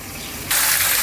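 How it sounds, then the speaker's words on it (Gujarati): Plain water poured into a pan of cooking vegetables, a sudden bright gush that starts partway through and pours on steadily and close. "હવે અત્યારે હું આ સાદું પાણી નાખું છું"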